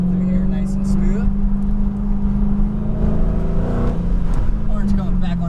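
A Dodge Challenger Hellcat accelerates on the Driveway Austin race track, its engine droning loudly and steadily from inside the car and rising in pitch as it pulls. Someone talks over the noise throughout.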